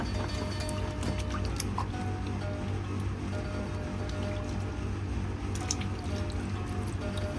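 A dropped piece of cooked yam is rinsed in water in a home kitchen while a Thai coconut-milk banana dessert is prepared, giving a steady, close trickle and splash of running water with faint drips and no talking.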